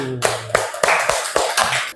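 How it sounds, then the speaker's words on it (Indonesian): Several people clap hands in a classroom lesson, a short burst of roughly six distinct, loud claps in an uneven rhythm, close by, after a brief quiet start. "Oke, tepuk tangan dulu."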